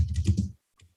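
Brief burst of keystrokes on a computer keyboard, a quick cluster of soft taps that stops abruptly, followed by a faint click or two.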